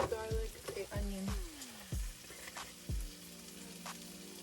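Onion frying in a pan over a small camper-van stove, a steady sizzle with a few clattering knocks of utensils near the start, fairly close and without speech.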